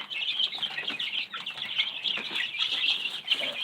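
Baby chicks in a brooder chirp in a dense, continuous chorus of high peeps, with occasional soft clucks and a brief flutter, close and steady without voices.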